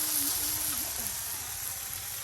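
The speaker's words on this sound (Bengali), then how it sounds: "আপনার পেঁয়াজগুলো কিন্তু একদম ভালো করে এই যে মশলার সাথে তেলের সাথে আপনার ভেজে নেওয়া হচ্ছে" Onions frying in oil with spices give a steady, close, broadband sizzle that holds throughout. A faint tonal whistle drifts low beneath it, with no speech.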